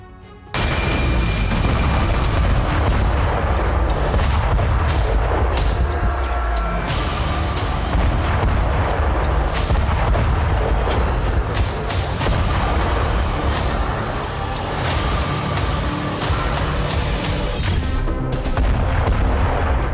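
A vacuum bomb (father of all bombs) blast in the Russia-Ukraine war, heard as a continuous, loud roar of explosions and rumbling booms with sharp cracks throughout, dense and without pause.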